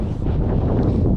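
Strong wind buffets the microphone beside an industrial pond on a windy day, a loud steady rumbling roar throughout with no talking.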